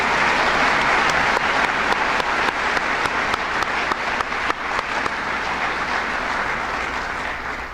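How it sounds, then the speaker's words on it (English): A large audience at a dental school white coat ceremony applauds with loud, sustained clapping that fades slightly toward the end. "join me in giving Maria a big round of applause"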